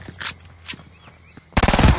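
Machine pistol gunfire in Call of Duty: Vanguard: soft clicks and faint handling noises, then a sudden loud, rapid burst of automatic shots close up in the final half second.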